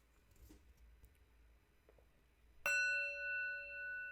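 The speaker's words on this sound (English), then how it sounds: "It's the sound of the bell." A single bell strike rings out clearly after a quiet, faintly shuffling stretch, its bright tone sustaining and slowly fading.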